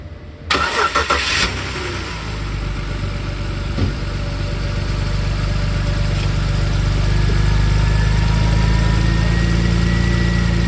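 A 2005 BMW 325i engine cranks and starts, then settles into a steady, loud idle with a continuous low rumble that grows slightly fuller over time, recorded close up with no talking.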